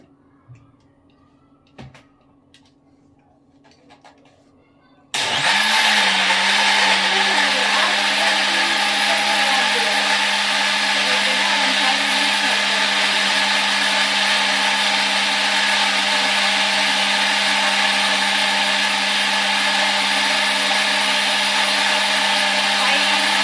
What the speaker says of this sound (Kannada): ಇವಾಗ ಇದನ್ನು ಚೆನ್ನಾಗಿ ಗ್ರೈಂಡ್ ಮಾಡ್ಕೊಂಡು ಬಂದುಬಿಡೋಣ